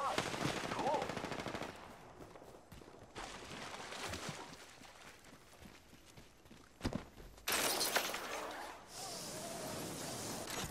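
Rapid automatic weapon fire in Apex Legends comes in bursts, loud sustained volleys at the start and again near the end, with quieter crackling shots and scattered single reports in between, surrounded by game effects.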